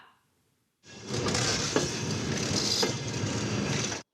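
Zaporizhzhia–Przemyśl passenger train running on rails: a loud, broad rumble rises suddenly and holds steady for about three seconds, with faint rhythmic wheel clacks, then cuts off.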